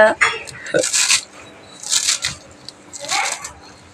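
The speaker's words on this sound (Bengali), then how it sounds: "আমি এই তো ধনে পাতা কাটতেছি এই কুচি কুচি করে নিতেছি" Finely chopping fresh coriander leaves with a knife on a cutting board, three bursts of quick, crisp chopping strokes with short pauses between, close and fairly loud.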